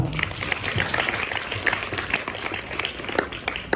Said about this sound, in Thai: ขอปรบมือให้กับทั้งสองคนด้วยนะครับ